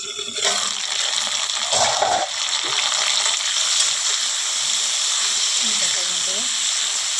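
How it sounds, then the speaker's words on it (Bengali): Okra fries and sizzles in a pan, a steady close hiss with occasional stirring scrapes, while a person speaks over it. "ভেন্ডিটা কিন্তু আমি ভালো করে ভেজে নেব।"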